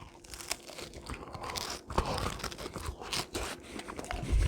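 Someone bites into crunchy pizza cooked in a Kalorik Maxx air fryer, producing close, repeated crunching and chewing sounds with crackly bursts over a few seconds, with no talking.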